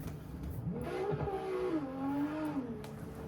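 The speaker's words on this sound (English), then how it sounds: "hopefully you guys can still hear me and the sound of the cars isn't too obnoxious" Cars in a sim racing drift game, a close engine whine rising and falling in pitch as it revs through a short track, with faint tire noise underneath.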